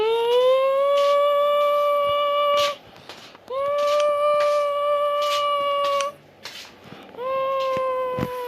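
Tornado warning siren in the Melon Playground video game, three long steady wailing tones, each rising at the start and cutting off after a few seconds, loud and alone.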